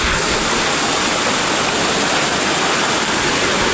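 Waterfall at Uwan-uwanan Falls pours in a steady, loud, broadband roar that stays constant throughout, with no voices over the rushing water.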